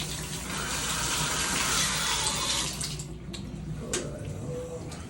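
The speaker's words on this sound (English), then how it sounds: "There's still a bunch of water coming out of the tub spigot when it's in shower mode" Water gushes steadily from a bathtub spigot while the fixture sits in shower mode, a loud continuous rush that drops away partway through, leaving quieter splashes and faint room noise.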